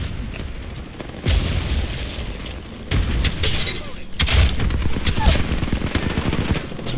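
Loud video-game firefight with rapid automatic gunfire and a grenade blast, dense overlapping shots and booms with shouted in-game callouts mixed in.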